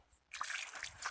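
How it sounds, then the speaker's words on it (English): Water poured from a bottle over feet for washing before entering a house: a short, soft splash and trickle starting after a brief silence, faint and close. "put uh, some water from the bottle and wash your feet"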